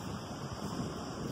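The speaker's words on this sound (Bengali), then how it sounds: "অসাধারণ সুন্দর একটা হাওয়া দিচ্ছে।" Wind blows steadily across an open beach at Mandarmani, a soft continuous rushing noise with a low surf-like wash underneath and no voices.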